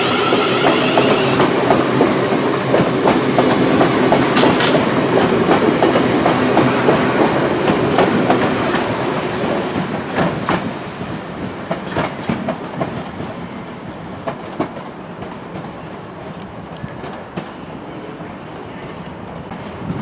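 A TransPennine Express train bound for Manchester Airport rolls through Manchester Piccadilly station, a loud rumbling roar with rhythmic wheel clatter and brief squeals that fades to quieter clicks and knocks as it passes.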